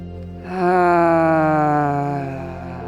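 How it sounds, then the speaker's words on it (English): A loud, drawn-out vocal exhale during a yin yoga breathing exercise, a single sustained moaning out-breath that swells quickly and slowly fades. "we're gonna breathe loud and vocally out, clearing out that ball, that energy out of the pelvis"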